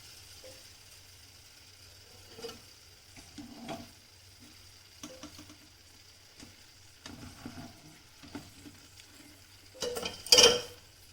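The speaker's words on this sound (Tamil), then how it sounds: "இன்றைக்கி வந்து முந்திரி பருப்பு எண்ணெயில் போட்டு வறுத்து அதோடு மிக்ஸ் பண்ண போகிறேன்" Cashew nuts frying in oil in a pan while making kara boondi, a soft continuous sizzle with occasional stirring scrapes and a louder burst of clatter near the end.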